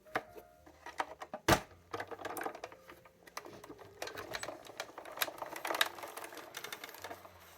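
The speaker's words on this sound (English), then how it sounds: "run that through my embossing machine" A card stock note card rolls through an embossing machine in a quiet room, a soft run of mechanical clicks and rattles with one sharp clack near the start.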